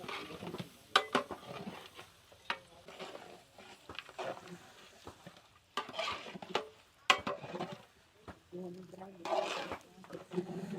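Mutton for a feast cooks in a large pot with turmeric and salt while being stirred, producing irregular scraping and soft sizzling amid outdoor rain, with people talking throughout.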